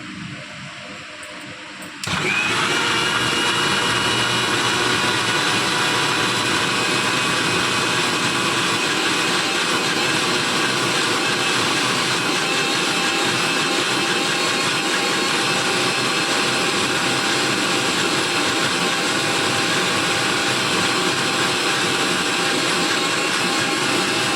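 A kitchen mixer blends milk, ice and sugar for juice, starting abruptly after a brief quiet moment and then whirring loud and steady without a break. No one speaks over it.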